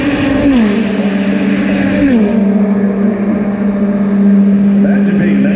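An Indy NXT open-wheel race car screams down the main straightaway, its engine note climbing then dropping as it shifts, loud and close, with an announcer's voice over the roar.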